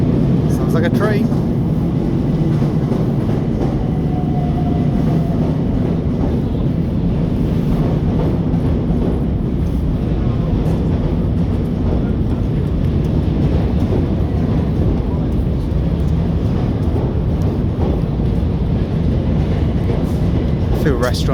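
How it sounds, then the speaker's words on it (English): A train passes near London's Victoria Embankment, heard as a loud, steady, broadband rumble that fills the whole stretch without pause, with faint city noise mixed in. "Sounds like a train."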